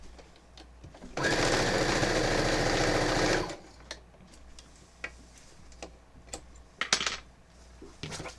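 A sewing machine stitching quilt strips, a fast even mechanical chatter that runs for about two seconds and then stops, followed by quiet handling clicks and small knocks.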